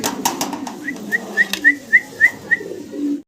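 Fancy pigeons, a pair of red coloured birds, give a run of short soft coos and whistly calls, about eight evenly spaced notes close by over quiet background murmur.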